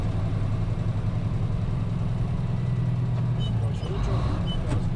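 Ten-speed truck engine rumbling steadily at low revs while downshifting toward a stop sign, a continuous diesel drone with a slight dip in pitch, close inside the cab.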